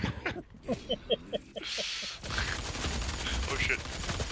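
Battle rifle fired in Doom multiplayer, a quick series of sharp, evenly spaced shots followed by a hiss and a denser stretch of rapid gunfire with game effects, and a voice speaking over part of it.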